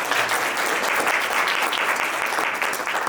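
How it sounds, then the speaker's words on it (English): Close, brisk applause from an audience for conference panelists, a dense even patter of clapping that runs steadily for a few seconds without voices. "I would like a round of applause for our"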